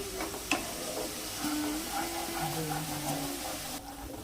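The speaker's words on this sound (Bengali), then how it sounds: "মশলাটা আমরা কষে নেব যতক্ষণ না পর্যন্ত মশলা থেকে তেল ছেড়ে দিচ্ছে" Turmeric spice paste frying in oil in a pan gives a soft, steady sizzle with light clicks and scrapes of stirring, plus a sharper knock near the start and a brief rise in hiss toward the end.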